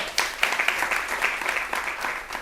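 Audience applause for a guest in a televised interview: a steady wash of clapping at moderate volume, continuous throughout with scattered sharper individual claps.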